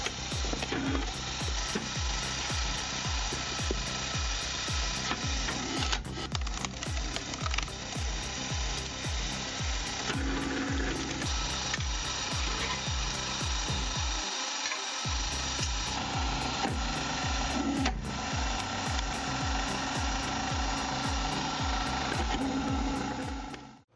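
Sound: hydraulic firewood processor splitting large logs

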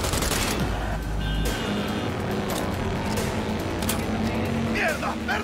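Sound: gunfire in Cyberpunk 2077 video game

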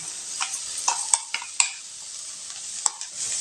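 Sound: sautéing ground spice powder with soya chunks

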